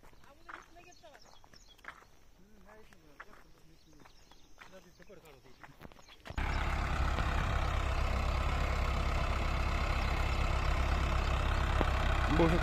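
A Mahindra Arjun tractor engine starts running midway, a loud steady drone at a farm field being levelled, after a stretch of quieter ambient sound with voices.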